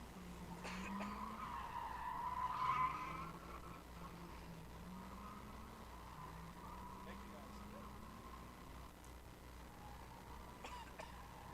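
A New Edge Ford Mustang with a 4.6 V8 and PI heads drives around a drag strip pit area, tires squealing and the engine droning at moderate distance while a voice comments over it.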